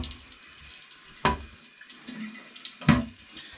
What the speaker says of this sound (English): Turn the supply line back on. And we're going to start filling.